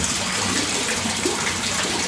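Water pours steadily from a white-painted filter barrel into a minimalist koi pond, a continuous close splashing gush with no voices.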